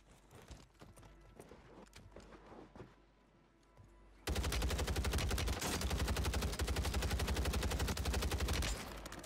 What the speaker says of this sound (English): Oh, I'm shooting all of them through the wall.